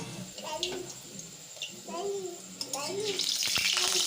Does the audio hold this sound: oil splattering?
yes